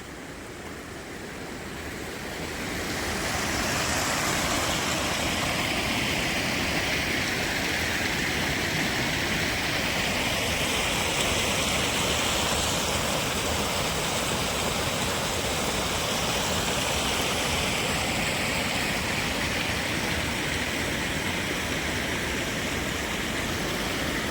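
Floodwater swollen by a night of heavy rain rushes over a submerged bridge linking the villages of Borgaon and Malewadi, a loud, steady roar that swells in after a few seconds and continues unbroken.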